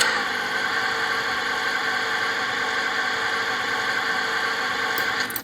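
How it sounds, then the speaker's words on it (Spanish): A simulated car engine runs in an automotive training simulator, a steady mid-pitched idle with a constant whir that holds evenly throughout and cuts off abruptly at the end. "En este caso vamos a darle arranque al motor."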